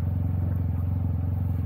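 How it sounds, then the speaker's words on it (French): A Yamaha T-Max 560 TechMax scooter from 2023 hums along at a steady pace, its low engine drone constant and close, with no voices over it. "je t'invite à faire un tour avec moi et ce scooter"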